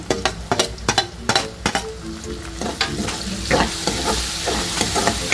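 Finely chopped onion with a pinch of salt frying in a pan for a Nashik-style matki misal, with sharp scraping stirs at first, then a steady close sizzle.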